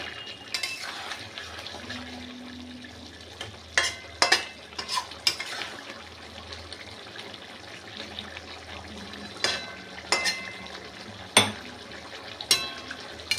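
Tomato chicken stirred in a pan while it bubbles, with a soft continuous simmer and sizzle broken by several sharp scrapes and clinks of a utensil against the pan, close by and with no talking.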